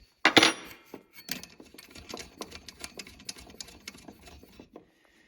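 A banana jack nut on an Astron power supply is loosened by hand, with a sharp metallic clack at first, then a string of small close clicks and scrapes that taper off.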